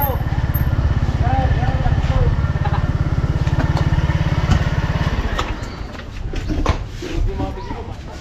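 A motorcycle engine runs close by with a steady, buzzing idle for about five seconds, then cuts out, leaving voices and background chatter at an outdoor birthday gathering near a resort.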